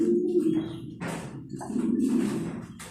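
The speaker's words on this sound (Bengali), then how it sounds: "এটা হচ্ছে আমাদের মুন্ডিয়ান কবুতর।" A Mundian pigeon coos nearby in a low, throaty, rolling rhythm, with a few soft taps and rustles around the calls.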